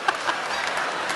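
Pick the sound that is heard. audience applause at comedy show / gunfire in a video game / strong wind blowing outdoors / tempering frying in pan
audience applause at comedy show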